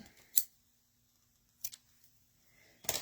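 Scissors trim card paper for a handmade diagonal panel card: three crisp, separate snips, close and fairly loud, with near silence between them.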